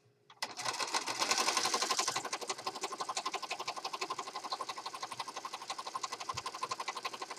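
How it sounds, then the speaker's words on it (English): A sewing machine runs a line of stitches down the middle of tall journal pages, starting with a whirring burst and then settling into a fast, even, close-up mechanical rhythm. "I need to sew it down the middle."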